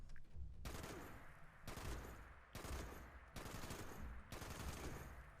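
A .50 cal heavy machine gun firing in Fallout 76, several sustained bursts of heavy rapid fire separated by brief pauses, steady and loud, no voices.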